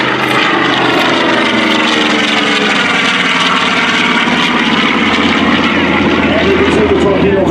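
A TBM Avenger torpedo bomber's propeller engine at an airshow, a loud continuous drone with fluctuating buzzing overtones, close and steady, with speech audible beneath.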